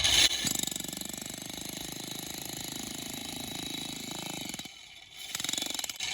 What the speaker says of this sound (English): I'm taking off bit by bit by the grace of the drill, the hammer drill